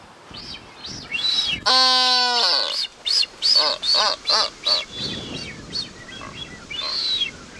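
Blue-footed boobies on the Galapagos Islands give a run of loud, close honking and whistling calls, one harsh drawn-out note followed by a steady series of short repeated cries.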